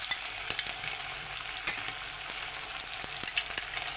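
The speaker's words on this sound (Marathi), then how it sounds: "भाज्या व्यवस्थित परतून घेऊया" Vegetables for veg noodles stir-fried in a pan give a constant bright sizzle, broken by light scattered taps and scrapes as they are tossed and stirred, close up with no talking.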